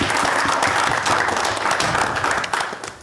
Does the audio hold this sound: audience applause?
yes